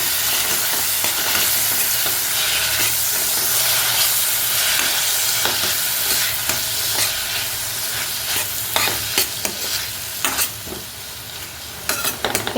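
Raw mango pieces with chili powder stirred in a hot pan, a loud steady frying sizzle broken by repeated scraping and stirring clatter throughout.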